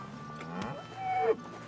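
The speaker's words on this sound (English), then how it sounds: "Do we actually have a cow? We have a cow!" A cow in Kingdom Come Deliverance 2 gives a low, drawn-out moo at moderate distance, rising and wavering over a quiet game ambience, with no talk.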